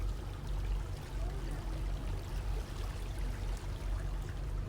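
Water flows steadily along a stream in the Al Ain oasis among a date plantation, a continuous close rushing and trickling wash without pauses, and nobody talks over it.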